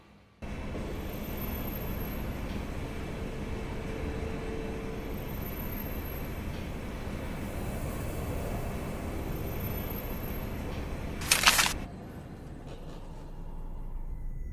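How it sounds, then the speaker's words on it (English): A train arrives in the video game Dark City: Intrigue International, a steady broadband rumble that holds for most of the stretch, with a brief bright hiss or squeal near the end and no voices. "The train. Just in time."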